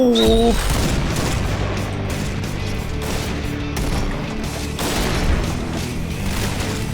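Rapid gunfire in the shooter game Point Blank: dense, continuous bursts of loud shots crackle without pause, with heavier booming reports mixed into the steady barrage.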